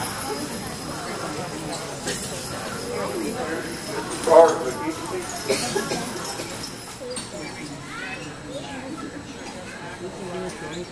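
Draft horses' hooves clop unevenly on a hard surface as they back up and step forward at a horse show lineup, with people talking nearby throughout.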